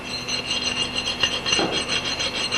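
A metal file rasps along an axe edge in steady back-and-forth strokes, a close, gritty scraping with a faint ringing metallic tone underneath and no talking.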